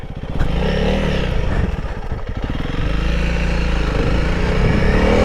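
A Honda CRF300L motorcycle being ridden, its engine droning close and loud with shifting revs and rattling clatter, steady throughout without speech.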